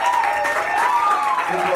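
An audience in a church setting applauds steadily throughout, a dense continuous wash of clapping with a voice speaking over it.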